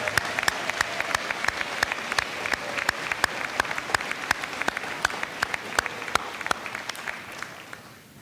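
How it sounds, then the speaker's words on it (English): Audience at a high school graduation ceremony claps with sharp, evenly spaced hand claps standing out over a softer wash of applause, steady for several seconds before fading slightly at the end. "Let's give these folks a huge round of applause."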